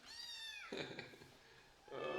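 A small rescued kitten meows, first a long, high, drawn-out cry and then a second meow starting after a short pause, fairly quiet and close with nothing else over it.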